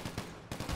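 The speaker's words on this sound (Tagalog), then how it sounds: "Kaya tuloy-tuloy yung baril nila." Continuous gunfire in GTA 5 roleplay, quick repeated shots in a rapid burst with a short gap in the middle, faint and distant.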